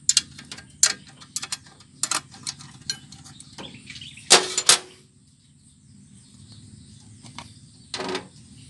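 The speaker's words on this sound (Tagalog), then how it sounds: "Luwagan natin tong bolt dito." A ratcheting 12 mm wrench loosening a bolt on the air cleaner of a Toyota 4K engine fitted with a 3K carburetor: a series of close, irregular metallic clicks and ratchet ticks, a louder clatter midway, then sparse taps.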